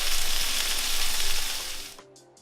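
Burger patties topped with cheese sizzle loudly on a hot griddle after flipping, in the style of In-N-Out burgers, a steady bright hiss that cuts off abruptly near the end, leaving a faint hum and soft ticks.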